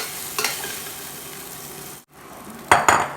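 Cooked food tumbled back into a hot frying pan for keto Chinese fried rice, sizzling steadily with a few loud scraping and clattering stirs of a utensil against the pan near the end; no talking.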